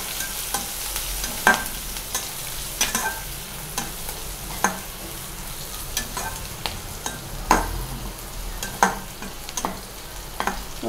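Onions frying in a pan with curry leaves, turmeric and asafoetida for idli masala sizzle steadily while a spoon scrapes and stirs in irregular clicks, fairly close and moderately quiet.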